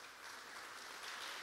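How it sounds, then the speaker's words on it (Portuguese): Faint, steady applause from a church congregation greeting a pastor couple, a soft wash of clapping held at an even level throughout with no voices over it. "Vamos aplaudir o casal de pastores que nós temos."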